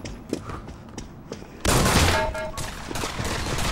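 Gunfire in the VR shooter Pavlov VR: a few scattered soft shots, then a sudden loud sustained burst of rapid fire and echoing reports that carries on steadily to the end.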